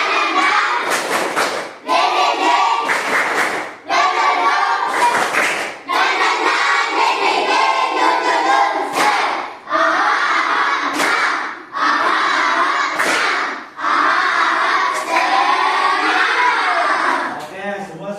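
A school class does a 'tepuk semangat' spirit routine, a crowd of children chanting and shouting loudly in unison while clapping, repeated in short bursts with brief pauses between phrases.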